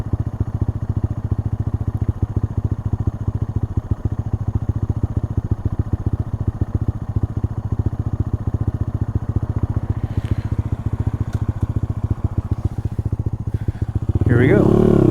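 A Honda Monkey motorcycle engine runs steadily through its gears, a close, even, throbbing putter that holds a constant beat for most of the stretch, with brief clanks and a louder burst near the end.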